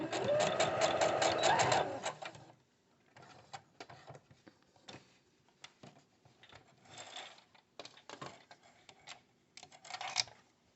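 Sewing machine stitching a fabric seam with a backstitch: a loud fast run of rapid needle clatter at first, then quieter, scattered short bursts of stitching and handling.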